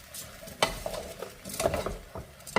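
A spoon scrapes and knocks through corn, zucchini, tomato and a crumbled chicken bouillon cube in a sizzling pot, several quick stirring strokes heard up close, with no one speaking.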